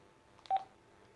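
A single short telephone keypad dialing tone sounds once, clear and close, just before a phone call, with faint background hiss around it.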